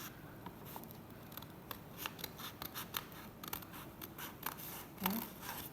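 Scissors snip through folded paper in a quick run of crisp, close cuts with short pauses between them, in a quiet room with no talking.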